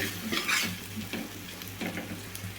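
Tapioca (cassava) pieces being stirred with salt and chilli powder in a frying pan, a soft steady sizzle with several scraping stirs of a spatula, close and moderately loud, no talking.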